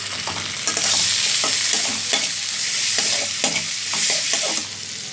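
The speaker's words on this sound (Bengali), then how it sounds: "এবার এই মশলাটা ভালো করে কষিয়ে নিই" A ginger and green chili spice paste sautés in oil, sizzling loudly while a spoon scrapes and stirs it in repeated strokes; no one speaks.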